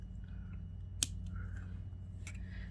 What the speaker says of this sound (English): what I'm going to do is cut this wire